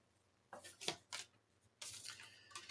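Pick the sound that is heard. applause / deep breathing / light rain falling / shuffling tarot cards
shuffling tarot cards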